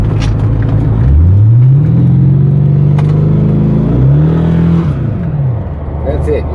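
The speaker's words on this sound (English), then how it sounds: "And you put on the gas a little bit and you're speeding." A C4 Corvette engine revs up loudly up close, its pitch climbing and holding, dipping briefly, then rising again as it accelerates.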